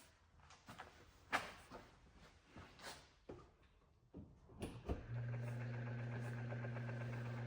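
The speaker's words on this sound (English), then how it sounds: "That bearing noise is obnoxiously loud." A 1999 Heritage Specter ceiling fan starts up after clunks and handling noises, then runs with a steady, loud tonal hum and grinding bearing drone that holds to the end.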